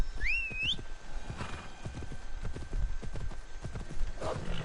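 Horse hooves clip-clop in a quick steady gallop rhythm in Assassin's Creed Odyssey, close and clear, with a short whistling cry at the start and a brief snort near the end.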